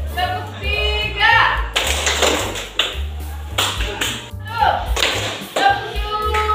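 A classroom group claps in a counted pattern, sharp bursts of hand claps separated by short pauses, led by a spoken count and repeated in rhythmic sets.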